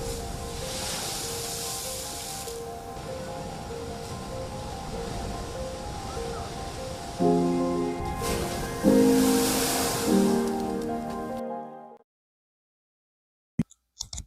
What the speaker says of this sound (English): Take a look at these waves though, and pretty much how big they were getting.